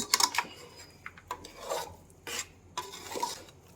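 A spoon scrapes and rubs in short, uneven strokes as a semolina mixture with added water is stirred in a pot, a close, soft rasping with brief pauses between strokes.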